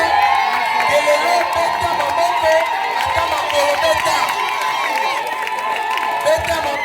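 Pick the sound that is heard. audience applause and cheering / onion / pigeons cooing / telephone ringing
audience applause and cheering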